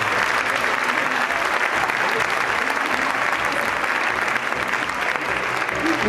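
Steady, dense applause from a crowd at a costume contest in Braga, loud and continuous throughout, with faint voices mixed in beneath.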